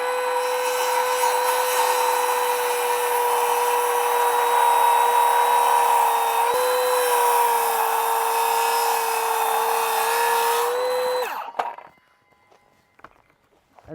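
A saw cuts freehand through a timber cladding board in one long continuous pass, loud and close with a steady grinding whine, ending abruptly before a few faint knocks.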